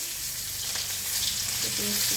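Chopped onion with whole cumin frying in hot oil in a pan, a steady close sizzle with a faint low hum behind it and brief clinks near the end.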